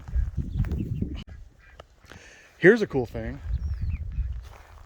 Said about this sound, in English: We have 2 of the ducks.